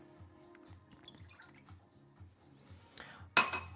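Milk trickles into a pan for choux dough in a home kitchen, soft dripping and splashing sounds that end in a brief, louder splash, quiet and close.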